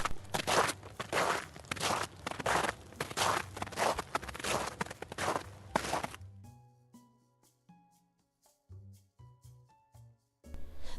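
Cornstarch is squeezed and pressed to mimic footsteps on snow, giving a series of soft crunching steps that are followed by quiet scattered taps and knocks.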